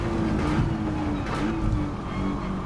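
Nissan GT-R R35 in Gran Turismo 7 racing on a track drying after rain, its engine a steady loud droning hum that holds a constant pitch throughout, close and alone.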